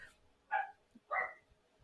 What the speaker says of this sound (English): You should listen to my dog